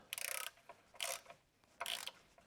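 A ratchet clicks in three short bursts while a bolt is loosened on a Mercedes W126 transmission, each burst a quick run of metallic ticks with quiet gaps between.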